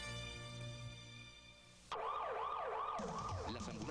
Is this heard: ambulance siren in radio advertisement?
yes